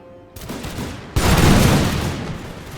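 Musket volley fire from a line of infantry in the Napoleonic strategy game Imperial Splendour, a loud massed crackle of shots erupting together, swelling into a roaring burst and rolling on without talk.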